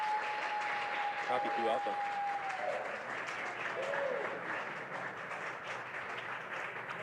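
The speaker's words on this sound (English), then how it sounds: "of course the cheering behind me" Crowd cheering and applauding at a rocket launch event after main engine cutoff and stage separation, steady distant clapping and cheers underneath a voice calling out over a radio-like channel.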